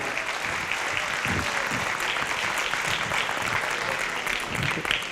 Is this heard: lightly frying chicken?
no